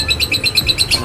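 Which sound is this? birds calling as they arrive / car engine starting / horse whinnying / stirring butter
birds calling as they arrive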